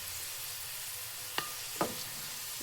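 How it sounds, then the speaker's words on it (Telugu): Herbs fry in hot oil for a homemade hair oil, giving a steady, even sizzling hiss throughout, broken by two brief sharp clicks of a utensil against the pan. "చూసారా, ఇవన్నీ మంచిగా వేగిపోయినాయి. ఆయిల్ కూడా కలర్ చేంజ్ అయిపోయింది"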